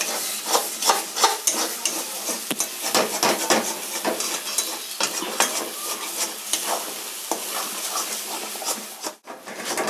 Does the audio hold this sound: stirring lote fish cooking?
yes